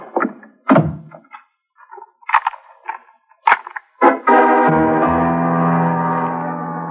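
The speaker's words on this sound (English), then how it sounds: "When I heard the front door slam" A front door slams shut with a heavy thunk in a dramatized old-time radio detective scene, followed by a sustained low tone.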